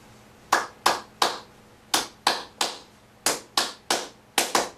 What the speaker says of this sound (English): I'm going to clap it.